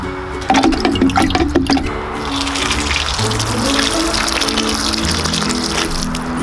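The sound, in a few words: water with kelp tonic being poured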